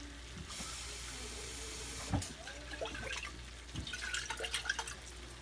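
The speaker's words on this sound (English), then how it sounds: "I always rinse the pasta jar with a little bit of water" Tap water runs into a pasta sauce jar as it is rinsed in a kitchen sink, a steady splash and gurgle with a few knocks and sloshes as the jar is swirled, close up.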